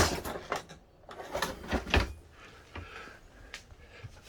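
Deep storage drawers in a 2021 Tiffin Wayfarer 25LW RV slide open and shut, giving several close wooden knocks and soft sliding rumbles spaced over a few seconds.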